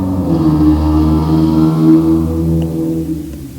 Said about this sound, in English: Did you guys just hear that sports car? That was so loud.